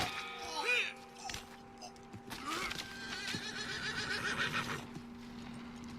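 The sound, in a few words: horse neighing in Red Dead Redemption 2 video game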